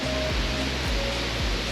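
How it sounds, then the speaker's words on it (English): A small trickling waterfall in Lauterbrunnen gives a steady, soft rushing wash of water, close and even, with faint low thuds recurring underneath. "We're gonna call this little trickle right here waterfall 7."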